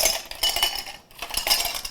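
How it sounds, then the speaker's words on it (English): Metal pots clink and knock together as frozen coffee capsules are set in warm water for a quick thaw, a run of bright, close rattles that pauses briefly midway, then resumes. "I'll grab 3 pots. I'm gonna get these in a little warm water."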